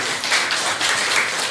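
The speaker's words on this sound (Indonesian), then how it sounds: "Beri tepuk tangan buat kelompok 1." Students in a classroom applaud a group, a brief dense patter of hands clapping together at a moderate distance, steady throughout.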